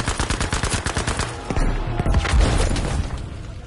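Gunfire in Battlefield V: a fast burst of loud, close shots from a heavy-recoil gun, then a deep booming rumble.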